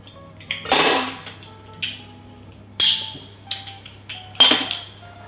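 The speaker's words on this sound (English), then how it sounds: "Don't have to peel the garlic in this garlic crusher" Unpeeled garlic cloves are squeezed in a metal garlic crusher, giving several sharp, loud metallic clacks and clinks spaced irregularly about a second apart, close by, with no talking.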